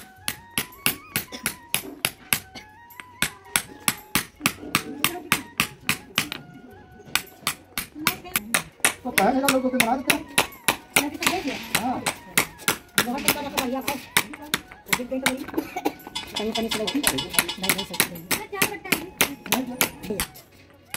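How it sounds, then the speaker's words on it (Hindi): A hammer drives a chisel to dress teeth into a stone sil-batta grinding slab, making a long run of sharp, rapid, evenly spaced taps close by. Voices talk over the steady rhythm. "ये छेनी और हथौड़ी का कमाल है कि कितनी बारीकी से और कितनी जल्दी इन्होंने जो है पूरी सिलबट्टे को अच्छे से बना दिया है"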